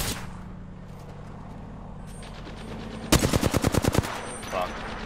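Automatic weapon fire in Apex Legends: a sharp, loud rapid burst of roughly ten evenly spaced shots near the end, over steady background game noise, with no talk during the burst.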